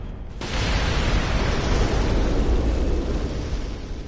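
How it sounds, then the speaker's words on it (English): Giant video game explosion, a sudden loud broadband blast that swells into a sustained roaring rumble for several seconds before easing slightly, with no talk. "Don't mind the giant explosion behind us."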